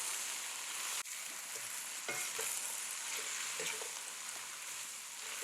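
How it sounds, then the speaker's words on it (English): Spoon stirring a vegan curry of yard-long green beans and potato with green seasoning and minced garlic in a pot, soft scraping and gentle sizzling close by, fairly quiet and continuous, no talking. "and we will stir well to combine."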